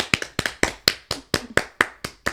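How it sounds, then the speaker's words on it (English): Hands clap about ten times at a steady, brisk rhythm, each clap sharp, close and loud. A brief round of applause during a hockey discussion, with no talking. "Claps."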